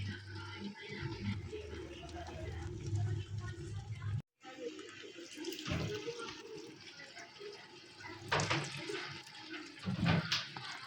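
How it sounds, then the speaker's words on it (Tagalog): Coconut milk pours and splashes into a pot of cooking cassava leaves, a continuous liquid trickle with a brief break and a few louder splashes, while a person talks over it. "Yan na po yung pangalawang buhos ng gata."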